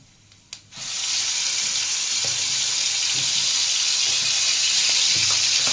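Dried red chillies and cinnamon dropped into hot oil for a jackfruit and prawn curry, a quick crackle at the drop followed by a loud, steady sizzle that holds throughout with faint stirring clicks.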